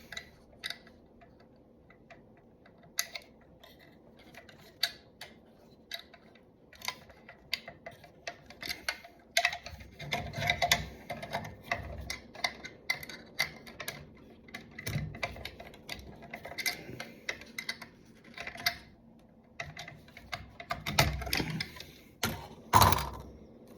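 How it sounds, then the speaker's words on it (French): Parts of an Altaya Optimus Prime model kit being screwed together by hand, with light irregular ticks, clicks and small plastic knocks close by that grow busier and louder toward the end, with no talking. "Donc là, j'ai commencé de visser, mais ouais, ça bouge énormément."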